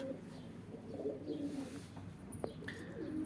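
Pigeons in a coop coo softly and repeatedly against a low, steady background hum, with a few faint chirps and clicks mixed in.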